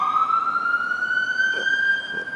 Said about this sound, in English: ignore the sirens. It's not for the moon.